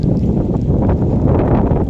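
Strong wind buffets the microphone outdoors beside a 1993 Mazda 121, a loud continuous low rumble with gusty flutter that never lets up.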